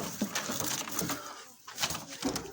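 Pigeons kept by a fancier give soft, low coos mixed with light shuffling and fluttering movement, faint and close by, in short irregular bursts.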